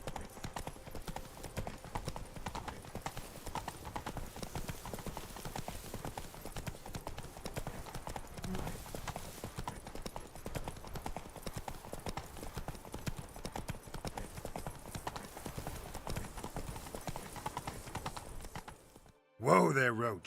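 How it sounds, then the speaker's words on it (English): A horse trots in The Witcher 3, its hooves beating a quick, continuous clip-clop rhythm for nearly twenty seconds before the hoofbeats stop and a voice speaks briefly at the end. "Whoa there, Roach. This the place?"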